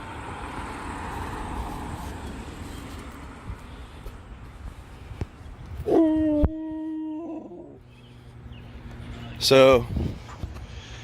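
A dog gives two drawn-out howling whimpers while being played with outdoors in a park, with traffic noise and a voice speaking nearby.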